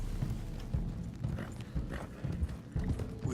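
Horse hooves clip-clop steadily at a riding pace in Red Dead Redemption 2, a rhythmic, moderately loud gait over low ambient rumble with no talking.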